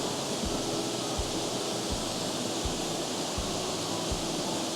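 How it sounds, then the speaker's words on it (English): Calder Mill waterfall at Lochwinnoch pours in a continuous broadband rush, steady and close, with faint regular clicks and no voices. "The waterfall, the water flow here."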